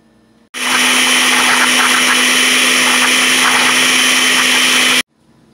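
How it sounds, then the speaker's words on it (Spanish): A blender grinds tomatoes and a large jalapeño chile into salsa. The motor starts abruptly with a loud, steady whir and churn that holds for about four and a half seconds, then cuts off cleanly, with no voices. "Ahora sí vamos a moler."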